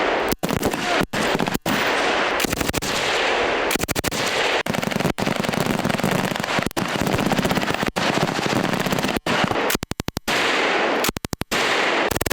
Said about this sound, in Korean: 이제 사격 훈련이 거의 끝난 것 같은데요